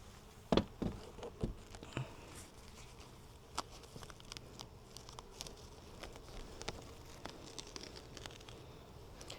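Honey bees hum and buzz in a low, steady drone around an open eight-frame Langstroth hive during a spring inspection, with a few sharp clicks and knocks of handled frames near the start.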